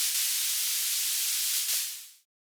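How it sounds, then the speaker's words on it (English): Synthesized white noise from Ableton Live 12, played on a single B note, makes a steady bright hiss that holds evenly for about two seconds and then fades out quickly. "So white noise, we can go ahead and make that since we have it ready now."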